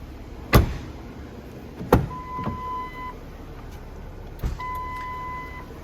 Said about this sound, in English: the doors that were replaced do open and shut nicely